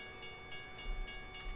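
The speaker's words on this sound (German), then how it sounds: "starten wir mal die Folge mit einem sehr langen Zug, der da lang fährt" A very long freight train rolling past in a Kansas train simulator game, a quiet steady rumble with soft rhythmic wheel clicks repeating at regular intervals.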